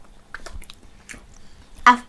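Biting into a homemade blackberry muffin, with a few soft chews followed by one sharper, louder bite close to the mic; no talking.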